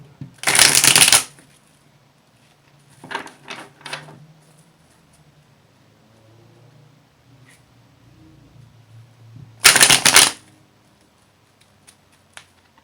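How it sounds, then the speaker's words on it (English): Tarot cards are riffled and shuffled in quick bursts, a loud one at the start, two lighter ones, then another loud riffle after a long pause. "That was an odd shuffle."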